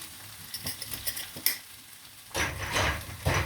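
Red pepper powder roasts in a hot pan, a steady sizzle broken by scraping stirs of a utensil against the pan, growing louder and denser in the second half.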